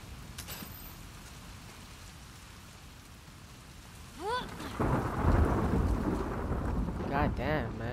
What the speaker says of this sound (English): it's thundering like shit